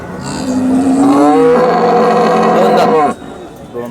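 A cow lets out one long, loud moo close by at a livestock market, lasting about three seconds before trailing off into quieter background noise.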